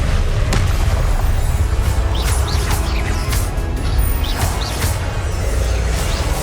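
Repeated Confringo fire-blast spells in the Hogwarts Legacy video game, loud booming bursts rolling one after another over a dense rumbling battle background, with sharp whooshing cracks throughout.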